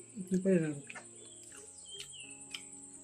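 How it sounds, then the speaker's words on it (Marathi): Birds chirp in a home courtyard with a few faint, scattered tweets in the middle distance, heard after a person's voice at the start. "भरपूर पक्षी आपल्या अंगणामध्ये येतात"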